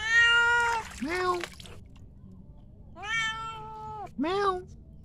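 A cat afraid of water meows loudly and clearly, giving four separate cries in two pairs, with quiet gaps between them and faint background noise.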